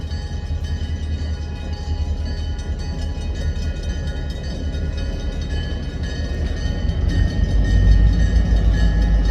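A train passes close by, its heavy, continuous rumble and rattling wagons swelling louder toward the end, with steady tonal whines running throughout.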